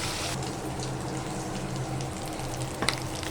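Bombay duck fish frying in hot oil for a Bengali jhura dish, a steady close sizzle with a low hum underneath and a brief clatter near the end, no voices.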